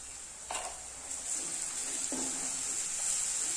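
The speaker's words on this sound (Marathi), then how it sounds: "हे व्यवस्थित तेलावर परतून घेऊया" Asafoetida sautéing in oil for kothimbir vadi, a faint steady sizzle close by with a few soft stirring knocks.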